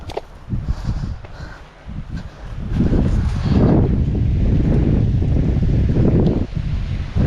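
Strong wind buffets the microphone beside the water at Prasae Reservoir during an afternoon fishing trip, a loud, steady low roar that gusts and rises for most of the stretch with no one speaking.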